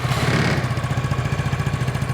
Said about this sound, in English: So the black version, go ahead and start the scooter.